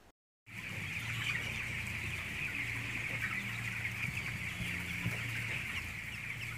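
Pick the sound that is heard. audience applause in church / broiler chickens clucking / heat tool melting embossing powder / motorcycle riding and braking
broiler chickens clucking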